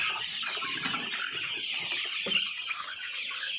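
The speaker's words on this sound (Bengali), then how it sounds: "আমাদের যে মুরগিগুলো কিন্তু লাফালাফি করতেছে" Chickens in a poultry shed cluck and squawk continuously while flapping and jumping around, a busy close flock with a constant bright chatter of calls over faint background noise.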